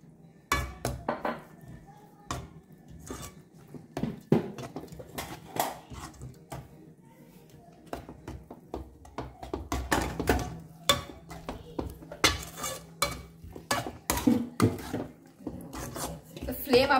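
Flour powder being stirred for a cucumber cake, giving irregular scraping and rasping strokes with occasional clinks of a spoon against a pot, close and moderately loud, under a voice talking.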